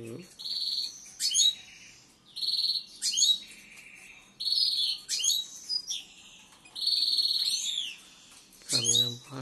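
A goldfinch sings indoors at home, with repeated bright trilling phrases and high whistled notes in bursts about every two seconds, close and clear, and a brief voice at the end.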